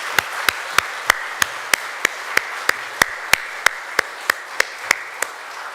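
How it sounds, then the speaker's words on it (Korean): A church congregation claps in slow, steady unison, with sharp, evenly spaced beats about three per second ringing out against a quiet room. "우리 이제 박수로 한번 박수 치는데 좀 세게 쳤으면 좋겠어요"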